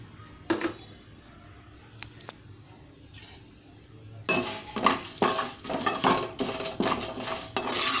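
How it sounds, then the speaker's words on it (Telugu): Rice fried in a pot while making mutton haleem: a few sparse metal clinks, then steady scraping and stirring clatter with a soft sizzle, fairly close and moderately loud. "దీనిలోనే రైస్ కూడా వేసి వేయించుకోవాలండి."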